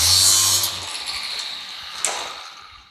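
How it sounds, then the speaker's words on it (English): An old angle grinder cuts into garage door insulation material, a loud high-pitched whine that tails off after about a second, followed by a brief sharp burst of cutting noise. "Grab myself an old grinder here."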